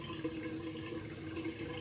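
Water runs steadily from a tap during an outdoor travel shave in Cambria, California, a soft continuous wash with no voices over it.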